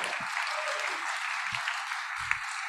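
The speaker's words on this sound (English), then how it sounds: "How about a round of applause for American Archives Month?" An audience at a public talk with the archivist of the United States at Carnegie Library of Pittsburgh gives a steady, moderately loud round of applause that holds evenly throughout.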